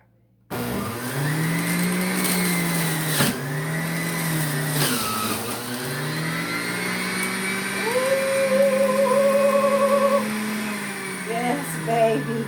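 A juicer whirs steadily as it presses beets, carrots and apples, its motor drone holding for several seconds with slight pitch shifts and a brief rise near the end, loud and close.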